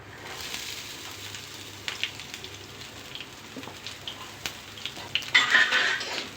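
Beans, carrot, green chilli and onion sauté in hot oil in a pan, a soft, steady sizzle with occasional scraping stirs growing louder near the end, with no talk.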